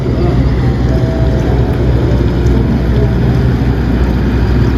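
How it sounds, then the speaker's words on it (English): A steady loud engine roar and rushing water noise fill the whole stretch as a boat runs fast past a narrowboat on the flooded River Avon, with wind buffeting. "Why is there a boat moving?"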